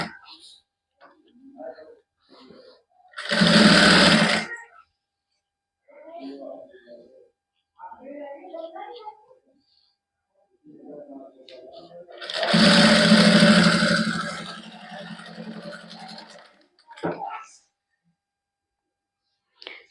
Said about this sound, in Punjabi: ਆਪਾਂ ਸਲਾਈ ਜਿਹੜੀ ਇੱਥੇ ਲਾ ਲਾਂਗੇ